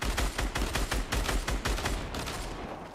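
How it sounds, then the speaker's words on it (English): Rapid bursts of gunfire in Fortnite on Nintendo Switch as a player shoots down an opponent's built wall, sharp repeated shots in quick succession, loud and close, easing slightly toward the end. "Try to shoot his wall down."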